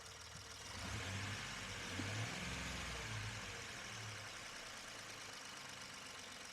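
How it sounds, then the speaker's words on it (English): A 3.5 EcoBoost V6 in a 2016 Ford Expedition, freshly tuned up, revs briefly from idle, swelling for a couple of seconds before settling back to a smooth, low, steady hum, heard close with no voices. "Rev it up a little bit."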